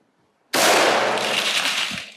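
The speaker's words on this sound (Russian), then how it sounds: "Так, сейчас мы выстрелим. И походу пробьем стекло." A Galil rifle fires a single close, loud shot into homemade bulletproof glass, a sharp broadband blast with a sustained ringing decay that lasts nearly two seconds.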